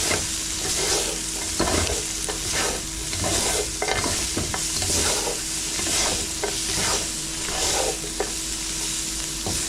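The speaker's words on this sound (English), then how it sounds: "sprinkle salt and pepper seasoning mix over the top and stir that in." Salt and pepper squid stir-frying in a hot pan with onion, garlic and chili peppers, a continuous sizzle broken by repeated scraping and stirring strokes.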